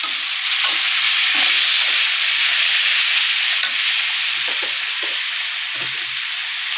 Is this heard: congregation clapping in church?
no